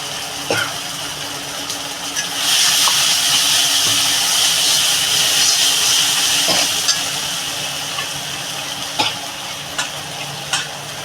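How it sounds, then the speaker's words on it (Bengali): Loud steady sizzling and hissing in a pan of pomfret masala as water is added, with a few clinks and stirring knocks over the continuous fry, no talking. "আমি জলটা ঢেলে দেবো"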